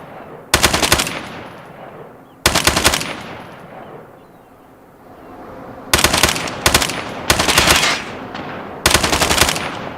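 Call of Duty Mobile gunfire comes in loud, close automatic bursts, about five separate rapid volleys with short quiet gaps between them.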